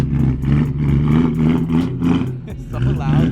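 A BMW E92 M3 engine revs loudly at a car meet, pulsing rough bursts that rise and dip over a few seconds, close by, with people's voices talking over it.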